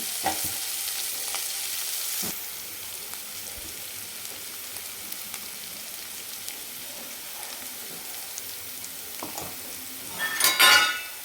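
Cooked mustard greens with coarsely crushed roasted peanuts are stirred in a pan, giving a soft steady hiss with occasional light scrapes and a louder clatter of utensil against the pan near the end.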